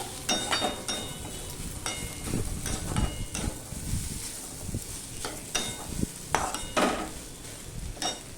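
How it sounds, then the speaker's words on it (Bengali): Water added to a pan of moong dal cooked with banana stem, with splashing, stirring scrapes and metal clinks in an uneven rhythm, close and fairly loud. "এবারে আমি একটু জল দিয়ে দিচ্ছি"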